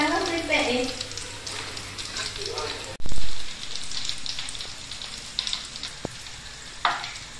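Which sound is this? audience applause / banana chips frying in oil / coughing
banana chips frying in oil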